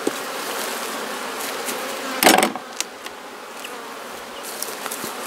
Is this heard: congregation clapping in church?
no